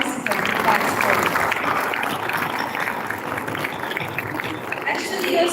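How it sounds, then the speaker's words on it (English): An audience at a Gavel Club grand finale applauds its participants, a dense, steady wash of hand clapping from a full room that holds at an even level, with faint voices beneath. "Round of applause to every participant who participated."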